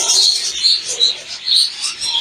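A small pet bird, likely a budgerigar, chirping in quick bright bursts at close range, several short tweets in a row with no talking.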